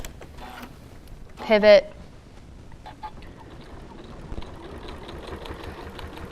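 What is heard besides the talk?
sewing machine stitching a quilted potholder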